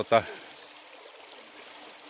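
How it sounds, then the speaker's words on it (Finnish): A flowing brook in the Saariselkä wilderness of Lapland, a steady soft rushing burble heard close by, with a brief burst of a voice at the very start. "Puro pitäisi ylittää"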